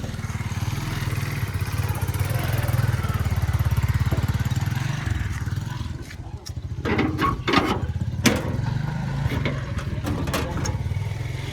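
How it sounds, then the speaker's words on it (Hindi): A government medicine van's engine runs steadily at close range, a low rumbling drone that carries throughout, with a few brief sharp knocks and clatters in the later half. "ये दवाई की गाड़ी आई है"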